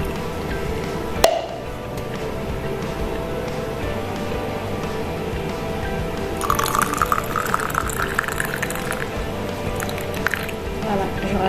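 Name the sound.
water poured into a jar with orange peels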